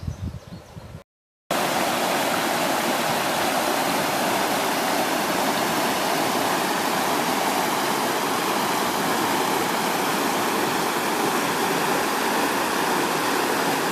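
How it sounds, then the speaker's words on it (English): Spring water pouring out into Lake of the Ozarks in Ha Ha Tonka valley, a steady, loud, continuous rushing flow that holds unbroken after a brief gap at the start. "the spring flowing out into Lake of the Ozarks"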